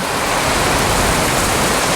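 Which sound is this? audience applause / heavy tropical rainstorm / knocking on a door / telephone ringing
heavy tropical rainstorm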